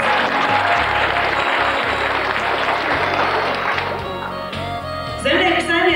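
An audience at a 2002 local business presentation evening in Vecpiebalga parish claps steadily in loud, dense applause that fills the whole stretch, with a voice briefly speaking over it toward the end.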